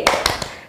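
Three sharp claps ring out in a quick rhythm during a children's church worship service, loud and close, each a crisp snap with a brief decay.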